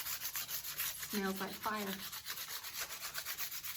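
Sandpaper rubbing over a handmade wooden wand in quick, steady strokes, close and raspy, while a person speaks briefly partway through.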